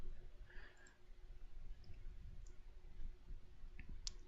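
A computer mouse gives a couple of faint, sharp clicks near the end, set against a low, steady background hiss.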